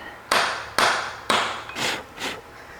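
A hammer drives a chisel against the side cover of a Saginaw 4-speed transmission on a 1956 Chevy: three sharp, ringing metallic strikes close up, then two softer blows.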